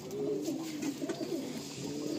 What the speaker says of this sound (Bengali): এ পায়রা 4 দিন পরে রিটার্ন করেছে